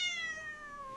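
A single cat gives one drawn-out meow that slides gradually downward in pitch and cuts off abruptly, close and fairly quiet, with no purring audible.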